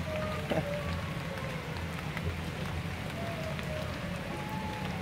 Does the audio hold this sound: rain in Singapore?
yes